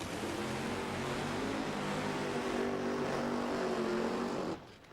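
NHRA drag racing cars doing burnouts, a loud, dense, continuous engine roar with strained harmonics that holds for about four and a half seconds and then cuts off abruptly.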